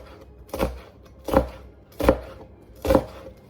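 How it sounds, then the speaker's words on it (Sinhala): A knife chops onions on a cutting board in a home kitchen, with four evenly spaced, solid thuds about a second apart, close and clear with no talk. "ලුණු ටික මනින් කපාගෙන මේකට අවශ්‍ය දේවල් ටිකක් කපා ගමු."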